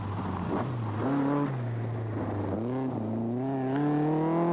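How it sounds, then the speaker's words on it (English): Rally cars at night on a Tokoroa forest stage of the 1983 Sanyo Rally New Zealand, engines roaring and shifting pitch as they rev and pass, a continuous loud mechanical drone with rising and falling tones. "the rally cars flash briefly by as the sound and light comes together for the watchers"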